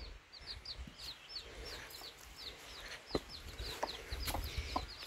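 A hen with four chicks clucks outside a henhouse, asking to be let in, as soft peeping chirps repeat throughout against a quiet outdoor background.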